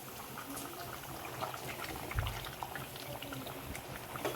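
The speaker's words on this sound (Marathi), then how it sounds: "त्याच्यात गरम पाणी टाकून आपण वाढवून घेऊया रसा" A dense bubbling, sizzling wash of liquid continues throughout as hot water is poured into a simmering mutton curry, close and fairly even.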